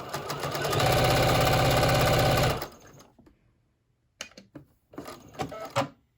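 Sewing machine stitching straight lines on a ribbon-trimmed tutu, a loud close rapid mechanical whirr for about two and a half seconds, then stopping, followed by scattered clicks and handling noises.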